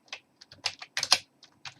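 Typing on a computer keyboard: a quick, irregular burst of close, crisp key clicks over a couple of seconds.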